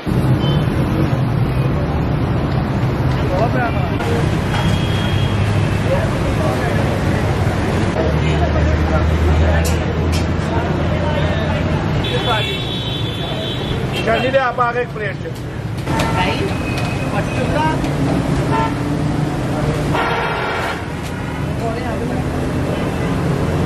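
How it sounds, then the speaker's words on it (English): Busy, dense road traffic roars beneath a highway in Lahore, a constant loud rumble of engines with occasional horns, while nearby voices chatter over it. "You can see the traffic is pretty crazy just under this highway."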